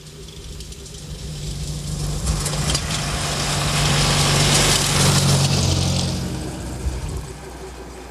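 A rebuilt engine in a 1938 Škoda runs steadily with a minor timing chain rattle, a continuous low mechanical drone that swells louder in the middle and fades toward the end.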